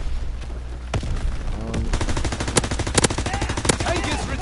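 Rapid gunfire in a World War II video game's French Resistance update: bursts of automatic fire and sharp single shots crack repeatedly in close succession, loud and near, with occasional faint voices underneath.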